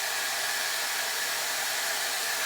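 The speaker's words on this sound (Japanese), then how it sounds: "今日はキャンピングカーの中でドライヤーです。" Hair dryer running inside a camper van, a steady, loud, close whooshing blower hiss with an unbroken level and no voices.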